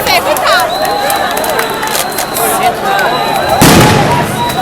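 Tear gas grenades fired by police at a 2013 street protest near Mineirão stadium in Belo Horizonte, with a loud burst near the end over a constant crowd roar and whistles, and people talking throughout.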